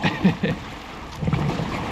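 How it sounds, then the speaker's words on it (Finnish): Waves slapping against a small boat on a windy lake in gusty wind, a few irregular splashes and thumps over a steady rushing background, close to the hull. "Ihan kunnon tällaisia aaltoja tässä tulee kyllä."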